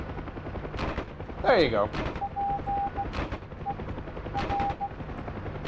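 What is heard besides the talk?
helicopter door machine gun firing in video game DCS UH-1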